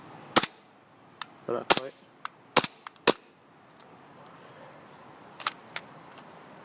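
An HK3 Glock 17 airsoft pistol fires a handful of sharp, loud, snappy shots in irregular spacing, some in quick pairs, with a brief spoken remark in between and a quiet outdoor background.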